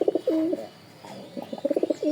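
Racer pigeons coo close by in soft, throaty bursts, a rolling call, a pause, then another run of quick coos.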